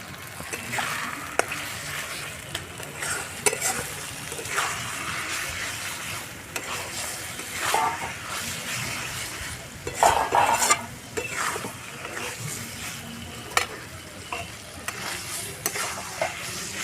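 Chicken pieces fry in oily spice masala in a pan, a continuous close sizzle with repeated stirring, spatula scrapes and occasional utensil clinks throughout.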